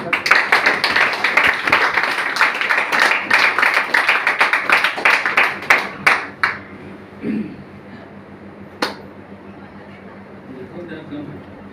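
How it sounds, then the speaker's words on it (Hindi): An audience at a speech event in Nallasopara, Mumbai, claps loudly and steadily for about six seconds before the applause thins out into a few scattered claps and quiet. "एक बार दिल से ताली हो जानी चाहिए।"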